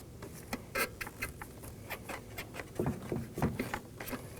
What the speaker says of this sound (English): I'm going to remove it using some needle nose pliers.